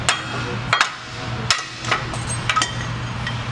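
Hammer tapping on a diesel engine part in a mechanic's shop, a few light metallic taps and clinks over a low steady shop hum.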